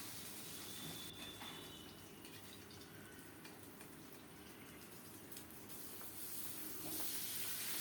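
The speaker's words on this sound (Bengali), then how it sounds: "এরকম করে সবগুলো মাছ ভেজে নেব।" Pabda fish coated in turmeric and salt fry in oil, giving a continuous faint hiss and sputter that stays even throughout with no voices.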